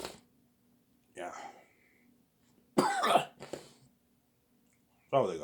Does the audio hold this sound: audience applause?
no